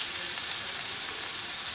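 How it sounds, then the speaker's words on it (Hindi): Mushrooms and onion frying in a pan over a low flame, giving a steady, even sizzling hiss that stays close and moderately quiet throughout. "थोड़ा सा और भूनूँगी ये मशरूम प्याज को।"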